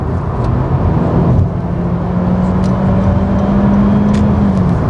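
Honda Civic, the all-new tenth-generation model, holding high speed on the road, with a steady engine and road roar and a faint rising tone as speed builds.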